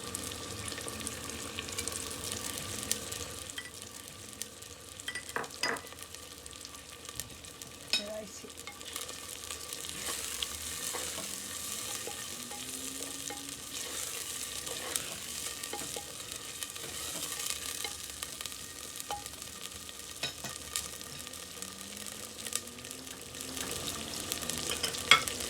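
Ginger sizzles gently in a frying pan for black lentil dal, with soft, steady frying hiss broken by scattered clinks and scrapes of a spoon stirring, fairly quiet and with no talking.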